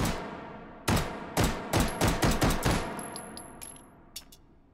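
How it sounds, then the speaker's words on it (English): Rapid burst of M1951 gunfire in the VR shooter Hot Dogs, Horseshoes & Hand Grenades: a loud opening shot, then a quick run of about eight sharp cracks, trailing into a few fainter, scattered pops. "Let's get a good look of it firing."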